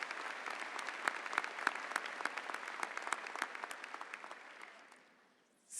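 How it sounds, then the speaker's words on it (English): Warm applause from a large crowd at a university new student induction ceremony, many distinct claps rising and holding, then fading away near the end. "let's give them a warm round of applause for all of those who made this ceremony"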